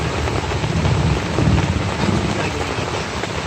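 Heavy rain during a thunderstorm on the Appalachian Trail at Blackrock Mountain, a steady loud wash of downpour with low rumbling swells that could be distant thunder and wind buffeting the microphone, with no voices.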